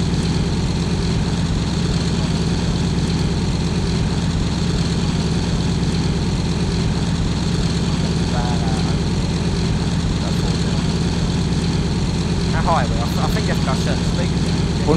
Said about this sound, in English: I think I hear an aircraft